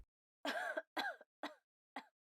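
A woman coughs four times in a quiet room, the first cough longest and the rest shorter and evenly spaced, each a close, dry burst.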